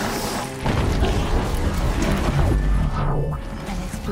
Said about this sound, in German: Eine Explosion.